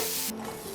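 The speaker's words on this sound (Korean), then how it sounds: "빨강 파프리카와 당근을 함께 볶아주었는데요." Red paprika and carrot stir-frying in a hot pan, a bright sizzle with a quick scrape of the utensil partway through, close and alone.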